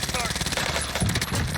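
Rapid automatic gunfire from the Warzone shooter game rattles continuously and loudly, dense bursts filling the whole moment with a voice speaking underneath.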